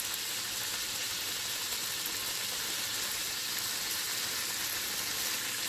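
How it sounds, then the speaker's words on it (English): Meat and onions sautéing in a pan, a steady, moderately quiet sizzle and crackle of frying that continues evenly throughout without speech. "Till the meat is like almost done. And the onions have sauteed a little more."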